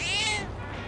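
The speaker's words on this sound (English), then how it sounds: "Cat is purring loudly." A cat in the Persona 3 Reload video game gives a single short, bright meow followed by a soft purring tail, close and clear with no talk.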